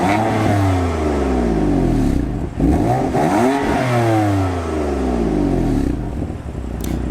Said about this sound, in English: But let's listen to this engine here.